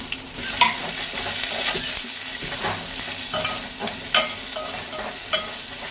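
Onions sautéing in a pan until browned for a tamarind and tomato rasam, a steady close sizzle with occasional stirring scrapes, no talking.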